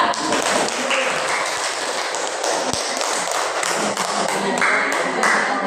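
A classroom full of students claps for group 2 during a mathematics lesson: a dense, steady patter of many hands close by, continuing for several seconds without talk.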